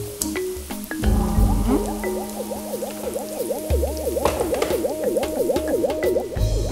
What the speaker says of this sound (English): I'm going to make this up to the litre mark with some water from the kettle.